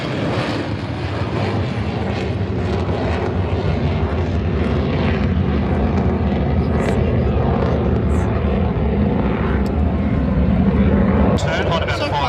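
Military aircraft from 2 Squadron flying a display at the Richmond air show, a loud continuous engine roar that holds steady throughout, with crowd or commentary voices mixed underneath.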